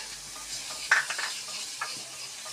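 Fenugreek leaves are tossed into spices frying in oil in a pan, with a low sizzle under a few sharp stirring scrapes and clinks of a utensil against the pan, heard up close with no talk.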